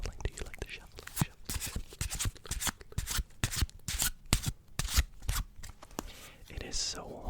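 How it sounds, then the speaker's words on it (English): Close, crisp shuffling of playing cards, with a fast stream of papery riffles and flicks running steadily for several seconds, recorded intimately in a quiet room. "You like the shuffling? Do you like the shuffling?"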